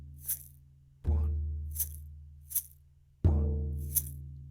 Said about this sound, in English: I've done a big drum for beat 1 and a little shaker for beat 2